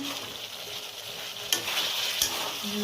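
Cauliflower roast gravy stirred in a frying pan, a steady sizzle broken by two sharp scrapes of the spoon against the pan, close and alone with no talk.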